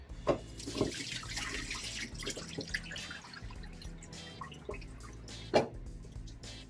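Water pours and splashes in a kitchen sink as boiled potatoes are drained, a steady running stream with a few louder splashes and drips, close and fairly quiet.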